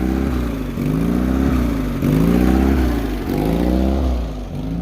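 A boat motor installed in a Tracker boat, suspected of a leaking rear main seal, runs loudly and close by, its pitch rising and falling in repeated revs about once a second with a rough, clattery edge.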